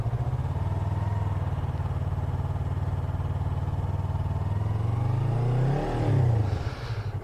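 A motorcycle moves off from a stop with the clutch eased out and only a little throttle, its engine a steady low drone that lifts briefly near the end, close by with no talk.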